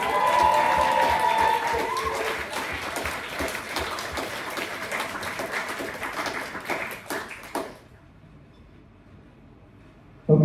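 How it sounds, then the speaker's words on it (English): Wedding guests at a reception applaud during the best man's speech, a dense, steady round of clapping that carries on for about eight seconds before stopping abruptly into near silence. "can we please have a lovely round of applause to my mum"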